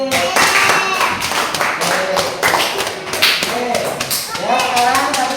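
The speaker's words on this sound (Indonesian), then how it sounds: "Tepuk tangan untuk kelompok kinestetik." A classroom of students claps together for a group, dense overlapping hand claps at close range, with voices mixed in beneath the clapping.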